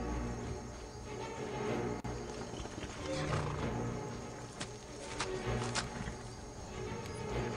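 A horse travels along a path in the video game Skyrim, its hooves a faint, uneven clopping set against a low, constant ambient bed at moderate distance.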